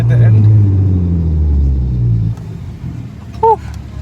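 A 12-valve VW R32 engine revs loudly and close, a deep rumbling growl that fades after about two seconds, followed by a short burst of speech.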